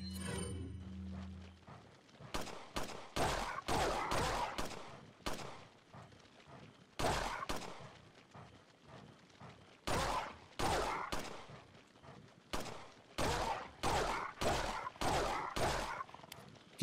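Gunfire at an enemy in the video game Resident Evil 4, sharp shots fired singly and in quick bursts, separated by short quiet gaps.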